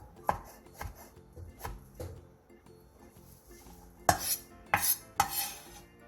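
Apple is julienned with a knife on a cutting board: crisp, close knife strikes, spaced at first, then a quick burst of louder, rapid cuts near the end.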